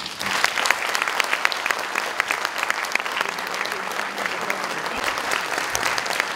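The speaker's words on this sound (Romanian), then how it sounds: "Să o întâmpinăm cu aplauze!" An audience gives dense, steady applause throughout, many hands clapping together at an even level before a singer's recital of old Greek songs.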